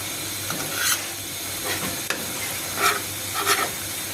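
Jute leaves fry in a little oil with garlic and green chili and are stirred in the pan. A constant soft sizzle runs under a few scraping strokes of the spatula, close and clear, with no talking.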